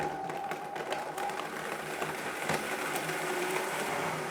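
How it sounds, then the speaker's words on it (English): A blender runs loudly and steadily, a dense whirring roar with a slight rattling texture throughout. "The blender is so loud."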